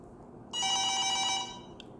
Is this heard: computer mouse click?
no